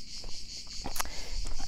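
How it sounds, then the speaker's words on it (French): Cicadas sing steadily in a continuous high buzz at dusk near the Sénanque Abbey in Provence, a dense insect chorus that stays constant and fairly loud, with a few faint rustles and steps underneath. "Le chant des cigales, wow, il commence à faire un peu sombre là."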